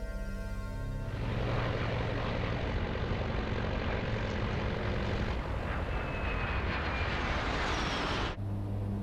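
A Colgan Air propeller airliner, Continental Connection Flight 3407 en route from Newark to Buffalo, drones overhead with a steady engine hum and broadband rush that holds loud for several seconds, then cuts off abruptly near the end.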